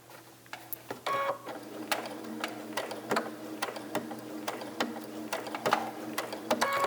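A sewing machine slowly stitches biscornu pillow fabric toward a marked point, each needle stroke a distinct soft mechanical click in an uneven, unhurried series, fairly quiet and close.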